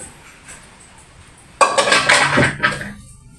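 Utensils scrape and clink against a pot while spaghetti pasta is stirred into its sauce, a faint quiet start giving way to a burst of close metallic scraping and a few knocks.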